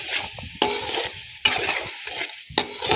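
Boiled chana dal stirred and frying in a tomato and onion masala paste, with a steady soft sizzle and repeated spoon scrapes against the pot, three sharper knocks standing out, no voices.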